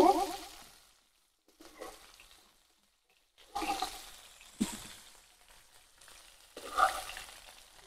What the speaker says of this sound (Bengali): এই যে আমার গোস্তটা ভাজা হয়েছে